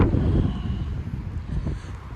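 Steady outdoor wind rumbles and buffets the microphone in a low, continuous roar on a breezy spring day at a horse farm, with no talking.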